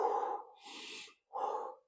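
Slow deep breaths during a hip stretch: a soft airy exhale, a longer hissing draw of air, then another exhale, close and quiet with no talking.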